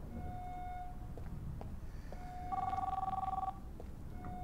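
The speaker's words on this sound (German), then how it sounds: "Hier klingelt manchmal ein Telefon." Telephone ringing in the video game Contagion VR Outbreak: a bright electronic ring tone sounding for about a second over a low background hum, with faint thin tones and small clicks around it.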